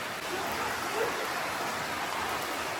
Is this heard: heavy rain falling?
yes